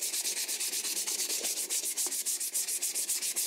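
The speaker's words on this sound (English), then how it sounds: "I'll just take a bit of sandpaper and give it a quick rub." A wooden hammer handle sanded with 120 grit sandpaper: rapid, steady back-and-forth scratchy strokes, close and continuous with no talking.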